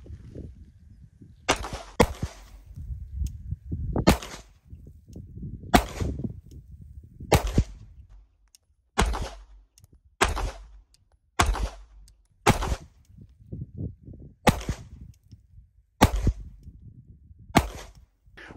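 Glock 19X pistol firing at a target from 10 yards, a steady string of about a dozen sharp, loud shots spaced roughly a second apart, each with a short outdoor echo and no talking.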